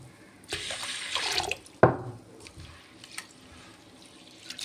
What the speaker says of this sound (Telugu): ఇలా వాటర్ పోసుకోవాలి.